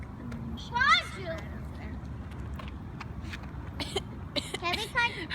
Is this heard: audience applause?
no